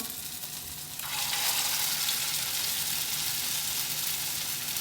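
Aloo tikki potato patties fry in hot oil for a restaurant-style snack, a steady bright sizzle that swells louder after the first second and holds evenly, close up with no talk.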